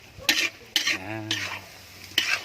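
A 9-kilo giant mudfish frying in a pan gets stirred in several scraping bursts with a utensil, with a soft sizzle running between the strokes, close and fairly loud.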